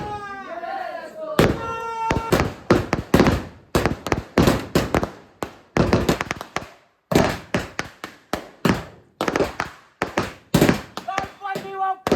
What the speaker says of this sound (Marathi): मंडळ फटाके फोडतोय